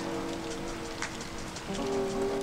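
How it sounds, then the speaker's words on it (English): Steady rain falls outside, a continuous soft hiss of drops on a surface with no voices, holding an even level throughout. "It's raining outside."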